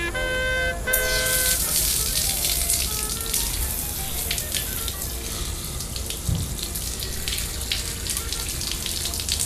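Water pours steadily onto a wilted, dried-out potted plant, a continuous close splashing and trickling that runs the whole time after a brief tonal sound at the start.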